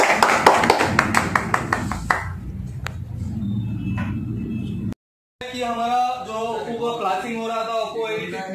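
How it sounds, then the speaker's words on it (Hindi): A short round of hand clapping for a helper at a mobile phone repair training session. Several quick, close claps fade out after about two seconds, and speech follows. "तो इनके लिए एक ताली हो जाए"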